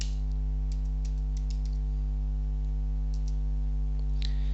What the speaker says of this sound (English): I'll just put in the username and password and log in.